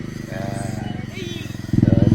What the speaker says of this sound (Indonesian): Knalpot brong ini merusak suasana.